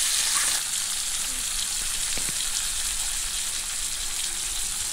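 Tomato puree hits hot frying potatoes with green chillies and salt, giving a steady, close, loud sizzle that hisses evenly throughout with a few faint clinks.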